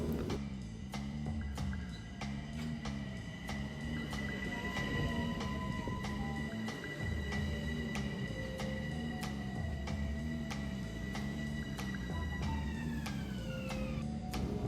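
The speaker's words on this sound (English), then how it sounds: "This train right here is my first train of the day" A New York subway train sits at or rolls through a station near Fordham, with a steady low rumble, a series of sharp regular clicks and long whining tonal squeals sliding in pitch, loud and continuous throughout.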